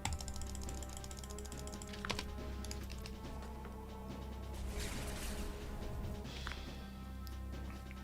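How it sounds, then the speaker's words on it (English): Keys on a computer keyboard clack steadily and quickly for about eight seconds. The typing is close and fairly loud, heard over a low background hum. "Like, is the keyboard too loud?"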